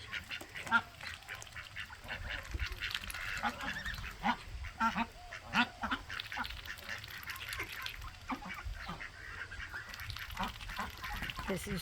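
Ducks, turkeys and geese gather at a farmyard pond for breakfast, honking and quacking in an overlapping chorus with repeated loud honks standing out, and a person talks now and then.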